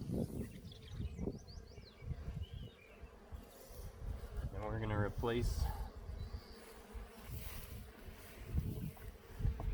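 Honey bees buzz steadily around an open nuc hive during a queen-cell introduction, a close, swelling drone with individual bees passing near, under a beekeeper's brief remark.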